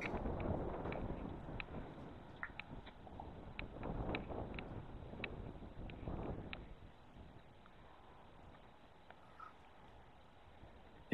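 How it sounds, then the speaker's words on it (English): Wind blowing on an outdoor country hill, a faint, low, continuous rumbling buffet with gusts rising and falling and a few light taps, dying down toward the end. "Wind's going to get much more furious up this hill."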